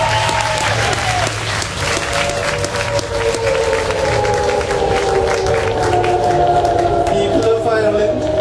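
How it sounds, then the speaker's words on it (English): Loud, sustained applause from a large festival crowd at Electric Picnic in Ireland fills the whole stretch, dense and continuous with some voices mixed in. "A huge round of applause, ladies and gentlemen, for the emergency!"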